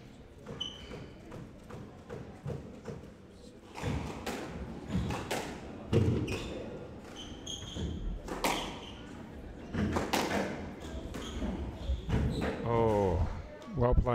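Squash rally in a women's professional final, the ball struck repeatedly in sharp, uneven thuds and taps echoing off court walls, with a commentator talking over the play and crowd noise building toward the end.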